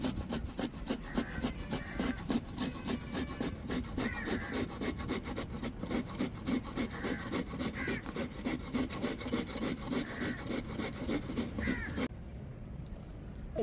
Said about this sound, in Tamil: இப்போ கேரட்டை சீவிக்கிடுவோம்